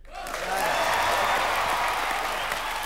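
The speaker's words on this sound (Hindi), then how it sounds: "जोरदार ताली।" Studio audience on the comedy show Comedy Nights Bachao breaks into loud, sustained applause that swells quickly and holds steady, with faint cheering.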